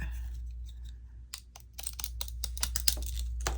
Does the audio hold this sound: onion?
no